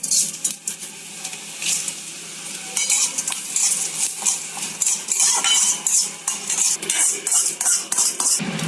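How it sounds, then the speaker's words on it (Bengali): Cumin and ground coriander dry-roast in a pan as a spatula stirs them, producing a quick, continuous run of scraping and rattling strokes over a faint sizzle, near and fairly loud. "আমি একটু জিরে আর একটু ধনের গুঁড়ো মানে ভেজে রাখবো"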